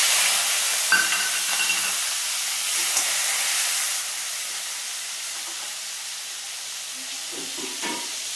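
Tomato and green chilli hit hot tempered dal, a steady close hiss and sizzle that eases slightly after a few seconds, with faint stirring clinks.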